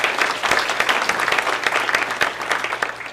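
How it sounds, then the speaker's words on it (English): A lunchtime audience claps for a talk on an angel investor network, a moderate, steady patter of many hands continuing from start to end. "a round of applause is in order"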